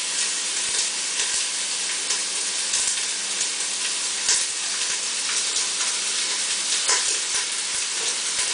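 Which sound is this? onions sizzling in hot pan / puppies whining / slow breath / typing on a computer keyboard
onions sizzling in hot pan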